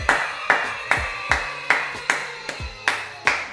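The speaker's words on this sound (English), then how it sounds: "Can we get a lot of applause?" A small audience claps for a podcast guest, with roughly eight separate, evenly spaced hand claps ringing out clearly in a quiet room, each one sharp and close.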